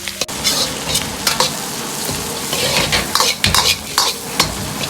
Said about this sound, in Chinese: 炒香后下入小料，葱姜蒜片，煸炒出香味